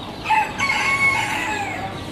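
A rooster crows loudly in one long drawn-out call, with chickens clucking faintly in the background, at a poultry event where chickens are sold.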